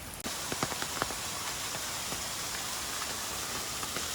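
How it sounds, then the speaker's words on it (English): Heavy rain pours down in Kyoto, a steady dense hiss of water with scattered sharper drop splashes close by, no voices, continuous throughout. "It is pouring down rain"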